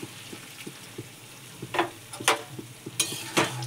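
Shukto with mustard and ginger paste simmering and being stirred in a pot, with soft bubbling under repeated scrapes and clinks of a spoon that grow louder toward the end.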